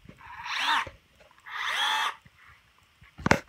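A handheld power drill run in two sustained whirring bursts of about half a second and a second while destroying a tablet, then a sharp crack at the end, close and alone.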